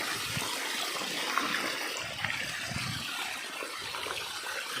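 Water pours out in a steady, close gushing flow that runs for the whole few seconds, with faint splashing and no talking.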